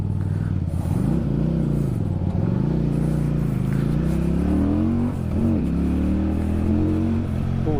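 An 800cc automatic big motorbike revving in neutral, a loud close engine drone whose pitch rises and falls through repeated throttle blips, steady and without talk.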